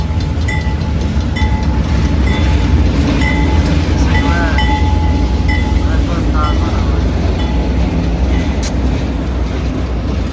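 A train approaching the station at Paranapiacaba, the English village in Brazil, at night: a loud, steady rumble and clatter of rails with faint high squeals, while someone speaks briefly over it.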